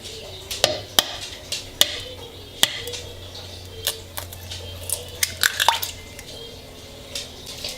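Eggs cracked one at a time and tapped into a bowl of heavy cream for a spinach quiche, giving sharp separate clicks and taps with small wet drips in between, close by, with no talking.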